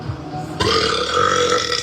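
A man lets out a loud, long, rumbling burp that starts abruptly and carries on for over a second, close and unaccompanied.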